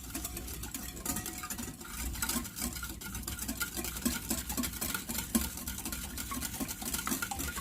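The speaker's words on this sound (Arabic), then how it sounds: "كنحاول نحرك هنا كما قلت لكم السوائل ديالي هنايا باش تذوب ليا السنيده" A spoon stirs liquids in a bowl or pot to melt sugar for an eggless, butterless chocolate muffin batter, giving steady scraping and clinking strokes at close range with no talk.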